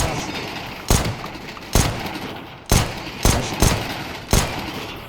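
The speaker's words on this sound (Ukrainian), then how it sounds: "Давайте зараз постріляю, і я подивлюся, як воно все розбивається." Six loud, sharp gunshots from Counter-Strike 2 gameplay ring out at irregular intervals, each with a brief decaying tail over a quiet background.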